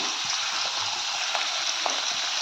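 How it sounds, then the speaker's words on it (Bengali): Fish pieces fry one at a time in a pan of hot oil, giving a steady, fairly loud hiss and sizzle with faint small pops throughout. "তাহলে চলো আমি মাছগুলো আগে ভেজে নিই একটা একটা করে"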